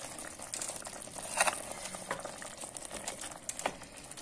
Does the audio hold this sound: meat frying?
yes